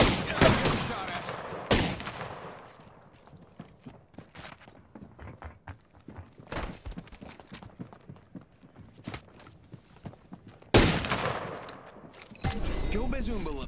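Apex Legends gunfire rattles in sharp bursts, a loud volley at the start and another near the end, with scattered single shots and quick footsteps in between, under occasional game voices.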